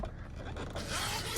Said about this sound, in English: if you need to use your center console, you could always zip this down